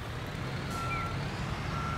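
Truck reversing on a construction site in the video game Bausimulator 2022, a steady high reversing beep sounding over a constant low engine drone.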